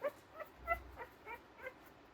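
A four-day-old black and white puppy whimpering softly, a string of faint, high, thin squeaks and yips coming every half second or so, close by and alone without talk.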